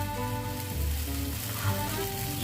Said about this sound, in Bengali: কিছুটা পরিমাণে জল দিয়ে দিলাম।